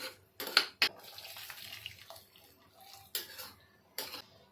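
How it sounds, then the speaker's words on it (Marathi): Heated water poured into rice in a pressure cooker for vegetable pulao in a home kitchen, heard as soft splashing with several sharp metallic clinks of utensils, close and fairly quiet. "गरम केलेलं पाणीच टाकायचं आहे"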